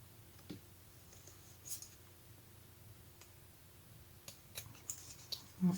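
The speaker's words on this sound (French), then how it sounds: "je vais découper ce qui dépasse" Scissors with glue-clogged blades trim excess paper from a handmade Valentine's card, giving a few faint, quick snips that cluster toward the end of an otherwise quiet stretch.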